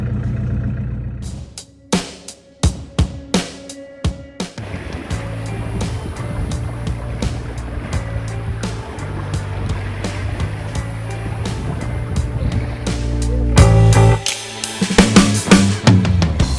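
A sailboat under full sail with the motor off on the open sea near Dundas Island, a steady loud rush of water and wind along the hull, with repeated knocking and slapping thumps in the first few seconds.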